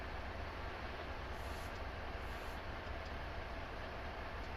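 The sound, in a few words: freight train running on rails in train simulator video game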